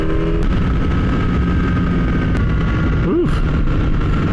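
A Kawasaki ZX-10R sport bike roars hard at close range while passing a van on the road, its engine note buried in heavy, constant wind rush.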